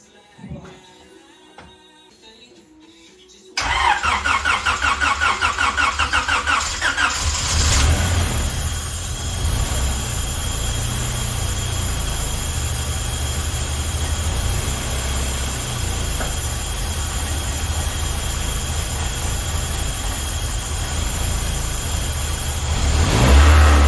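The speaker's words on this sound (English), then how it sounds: "let's crank her over and see what happens" A car engine, about to be dyno tuned, cranks over after a quiet stretch of small handling noises, then catches and runs, settling into a loud, steady idle close by with a brief rise at the end.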